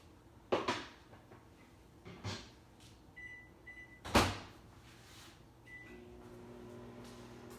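A microwave oven melting chocolate and butter: a few door clunks and short beeps, then a steady low hum as it runs, close by with no talk.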